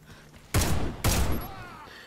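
Two loud gunshots from the online shooter Warface on console, fired about half a second apart, each a sharp broadband crack with a decaying tail.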